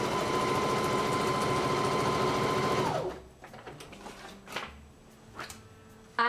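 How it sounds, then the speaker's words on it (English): Sewing machine running steadily as it stitches a wide zigzag stitch into a paper index card, a loud continuous mechanical whir for about three seconds, then stopping, followed by faint handling clicks and rustles. "I'm going to sew my stitches on this card"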